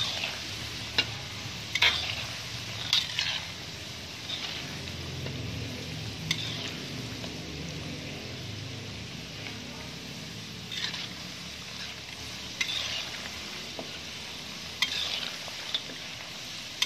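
Kue garpu, fork-shaped kue bawang snacks, sizzle steadily in hot frying oil, a close continuous crackle broken by occasional stirring scrapes and light ticks, with no talking.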